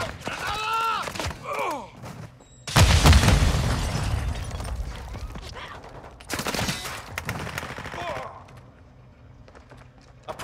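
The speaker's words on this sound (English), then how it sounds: "Throwing flash grenade out." A flash grenade goes off in Call of Duty Modern Warfare 2, a sudden loud broadband blast with a lingering rumble, followed by another burst, amid voice callouts and scattered gunfire.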